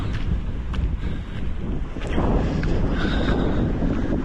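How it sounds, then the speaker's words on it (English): Strong wind buffets the microphone on a lookout above a town in Korea, a heavy low roar that gusts louder halfway through, with no one speaking. "Yeah, super windy. Hope you can hear me all right."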